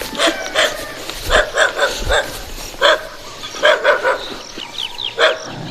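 A dog barks repeatedly in short, irregular bursts, fairly close, with brief pauses between clusters of barks.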